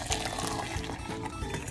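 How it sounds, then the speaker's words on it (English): Amber ginger syrup pours through a sieve into another container, a short, quiet, continuous splashing trickle with no voices. "We're going to pour it through a sieve"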